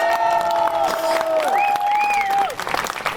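A crowd at a regional gathering claps and cheers. Sustained applause runs under rising and falling whistles and shouts, then thins out into scattered claps near the end.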